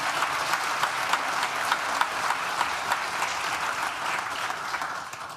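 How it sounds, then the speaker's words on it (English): A hall full of people at a university graduation ceremony gives a round of applause, dense steady clapping at moderate distance that holds evenly throughout with no voices over it. "could we give a round of applause to Professor Leslie Hoyles?"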